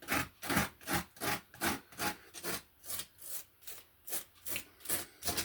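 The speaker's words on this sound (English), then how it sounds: "I'm just going to put the grout on and use a spatula just to scrape over the tiles" A spatula scrapes grout across tiles in steady back-and-forth strokes, about eleven rhythmic rasping passes, close and clear with no talk.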